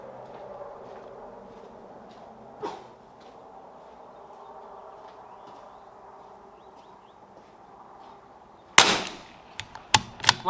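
Sharp cracks of a .22LR rifle firing Lapua Center X match ammunition, one shot and then a quick cluster of loud reports near the end, set against quiet outdoor background with faint bird calls.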